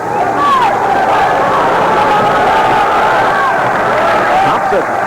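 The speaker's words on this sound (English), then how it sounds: "The crowd trying to urge De La Hoya on" A boxing arena crowd roars steadily to urge the fighter on, a dense sustained wall of cheering and shouting with whistles rising over it.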